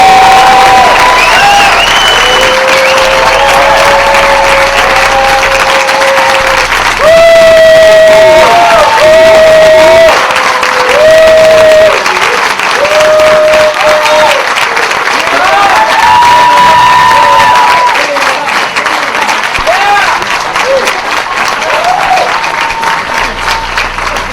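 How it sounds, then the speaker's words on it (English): Audience applause and cheering at an opening reception, loud close clapping with whoops and shouts from the crowd, swelling and continuing throughout over sustained tones. "I think she needs another round of applause."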